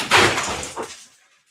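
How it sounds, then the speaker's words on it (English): An electric fan crashes to the floor after a dog trips over its cord, a sudden loud clatter followed by a second smaller knock and then quiet. "the dog just tripped over the cord for the fan and it went down"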